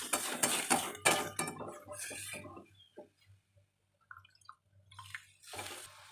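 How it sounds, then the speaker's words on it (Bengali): Water poured into a pan of curry with soybean fritters, sizzling and splashing loudly at first, then quieter clinks and drips before a final burst of splashing. "এখন দিয়ে দিচ্ছি জল,"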